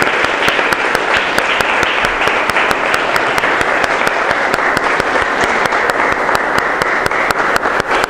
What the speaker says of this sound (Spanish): pues un fuerte aplauso, por favor.